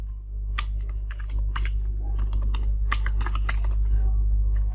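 Rapid, uneven clicks of fingers typing on a computer keyboard, close and clear over a steady low hum, with no talking.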